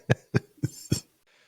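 Four short, sharp coughs from someone with a cold and runny nose, close and evenly spaced, each a quick harsh burst followed by a faint breathy tail.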